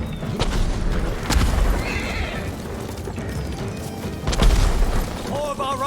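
In Ghost of Tsushima: Iki Island, a horse whinnies loudly amid clopping hooves, heavy booms and battle noise, with voices speaking over the action.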